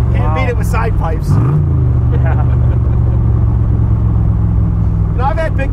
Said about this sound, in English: just can wind them up, really hear the exhaust note, especially through the side pipes